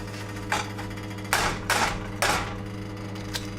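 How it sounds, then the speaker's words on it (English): Eggs cracked against the edge of a cooking pan, heard as a few sharp, separate taps and cracks over a steady low kitchen hum. "You're gonna wanna gently crack your eggs on the side of the pan and drop them in."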